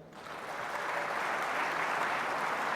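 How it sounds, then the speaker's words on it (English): An audience at a comedy show breaks into applause that swells within the first half second and holds as a steady, dense wash of clapping, loud and without speech. "Applaud if that describes you."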